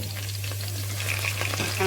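A large onion fries in hot oil for a cod fillet curry, a close, steady crackle and sizzle with light stirring over a low constant hum.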